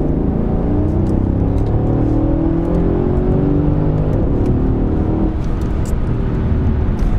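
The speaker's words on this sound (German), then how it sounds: "Das ist halt V8 Biturbo." A Mercedes S63 AMG long-wheelbase with a 5.5-litre V8 biturbo accelerating in sport mode, a loud, deep, continuous engine roar rising in pitch, close and heard alone.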